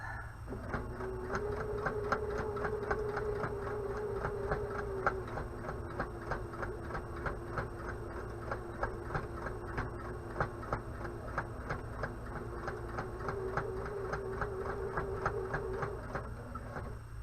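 A sewing machine stitches a hanging kitchen towel in a fast, even mechanical rhythm, running steadily up close with the needle ticking throughout and no pause.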